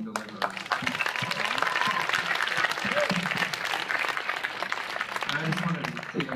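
A live audience applauds steadily after a cast member's speech at a Q&A for Joss Whedon's film "Much Ado About Nothing," a dense wash of clapping filling the room with some voices mixed in.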